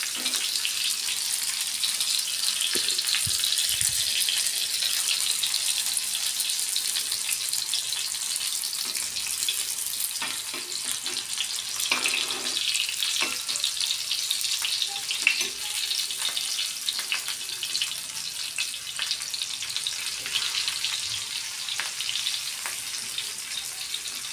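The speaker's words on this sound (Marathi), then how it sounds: "कारले आपले फ्राय झाले" Bitter gourd (karela) frying in a pan of oil, a steady, dense sizzle and crackle running throughout with occasional soft clinks as the pieces are turned.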